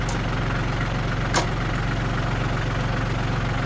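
A log splitter's small engine idles steadily up close, an even, slightly knocking putter that holds level throughout, with one brief sharp noise partway through.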